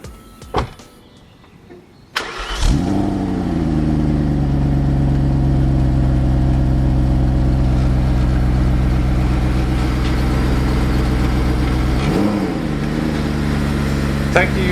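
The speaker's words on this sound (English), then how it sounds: "So all you have to do next is to start the car and go for a drive" BMW E34 530i engine cranks briefly, then catches and settles into a steady, loud, close idle that runs continuously with a small dip in revs near the end.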